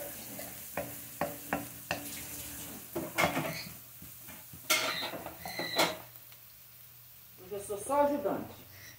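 A pan sizzles softly while eggs are cooked for an escaldado de ovos com mostarda, with rapid utensil clinks, stirring scrapes and pot knocks over the hiss, and a voice speaking quietly at times.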